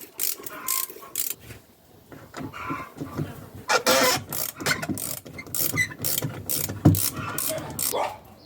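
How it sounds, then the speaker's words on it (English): Socket wrench ratcheting on intake pipe bolts of a Toyota 5L-E diesel engine in a Land Cruiser Prado, irregular clicking bursts with metallic tool handling close by, some louder rattles mid-way. "Let's remove the intake pipe. Use a 10mm socket or screwdriver."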